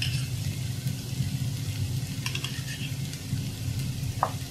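Chicken bun filling frying in a pan while being stirred, a steady close sizzle with faint scraping and clinks, no talk.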